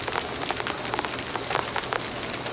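Steady rain pouring down outdoors, a dense, even hiss of drops spattering on surfaces that stays loud and constant throughout with no voices over it.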